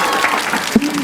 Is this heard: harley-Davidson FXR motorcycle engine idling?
no